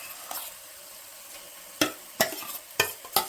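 A spoon stirs mashed potato and chickpeas into chana masala frying in a pan: several sharp scraping strokes, spaced apart, over a faint steady sizzle.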